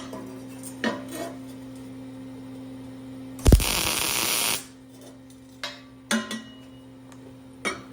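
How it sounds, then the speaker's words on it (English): A welder lays down a tack on a Bullitt Mustang exhaust in one burst of about a second of crackling buzz, set between light clinks of metal parts over a steady background hum. "set the welder nice and hot for tacks."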